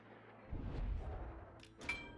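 Heavy guns boom from a warship in a World of Warships-style naval battle, with the Akizuki destroyer in play: a rumbling low-end blast swelling mid-clip, then a metallic clang and a second sharper report near the end, with no talk.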